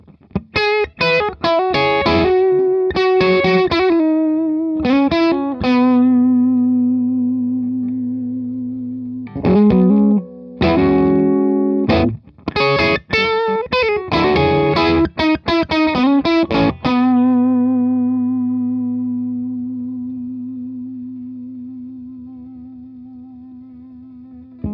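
An electric guitar runs through a Madbean La Vache overdrive pedal with its diode switch in the middle and the gain near 11 o'clock, playing mildly driven chord bursts and sustained notes separated by short gaps, loud and alone.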